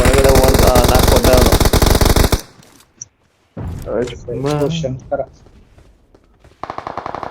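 Machine gun fire in a shooting video game, a loud continuous rattling burst that cuts off abruptly, followed by someone speaking, then another short burst of gunfire at the end.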